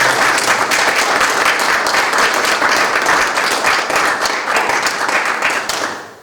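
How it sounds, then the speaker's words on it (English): Loud, dense audience applause at a lecture event, continuous clapping from a large crowd that holds steady and then fades out at the end. "I would like to, if everybody could show a round of applause."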